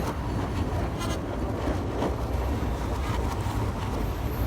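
A night train crosses the Bangabandhu Bridge in Bangladesh, heard from on board as a continuous loud rumble mixed with rushing wind and no talking.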